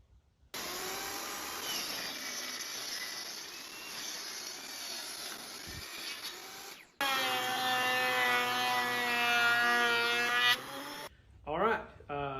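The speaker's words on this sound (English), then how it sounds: "we have cut out and planed down our ancient pine" A power tool runs on an old pine board: a long whining pass, a brief stop, then a louder and higher-pitched pass with strong humming tones, ending in short uneven bursts.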